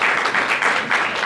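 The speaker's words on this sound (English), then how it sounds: "you deserve a round of applause for that" An audience at a ballpark community press conference breaks into brief applause: dense, steady clapping that stays loud and even for about a second.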